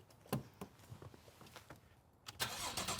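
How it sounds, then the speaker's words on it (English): A Porsche Cayman with a FabSpeed exhaust starts up warm, a quick crank and catch followed by a rising rev and rough idle, close and moderately loud. "that's not really a cold start. It's a lukewarm start"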